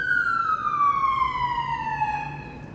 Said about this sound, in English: Cops, police, ambulance.